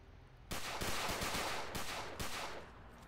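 Rapid Tommy gun bursts in a South London video game, loud and close, with a sustained stream of overlapping shots running for most of the stretch after a brief quiet opening.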